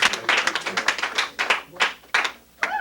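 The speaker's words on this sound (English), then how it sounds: "So let's give a round of applause for Phil Manicki." A television studio audience claps briefly, a burst of dense hand claps that thins into scattered claps and then stops, heard close.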